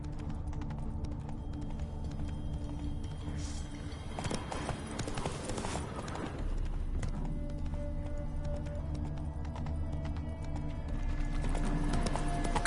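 Hooves of a horse named Roach clip-clop steadily in The Witcher 3, a heavy-laden horse trotting through woods over a continuous bed of game ambience and music, with no speech.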